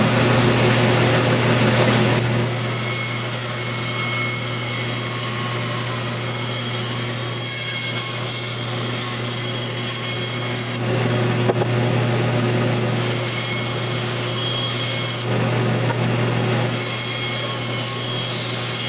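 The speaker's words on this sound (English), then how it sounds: "I'm going to go ahead and rip these down on the bandsaw" A bandsaw ripping wood boards down for a floating shelf, a continuous steady hum and buzzing cut with several brief shifts in tone as each board feeds through, close and loud without pause.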